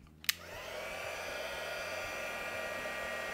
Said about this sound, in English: So lots of lovely heat gun noise again.